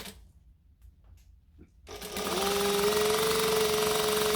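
A domestic sewing machine runs a steady stitching burst along a jacket hood seam, starting after a quiet pause and holding a constant close whir to the end.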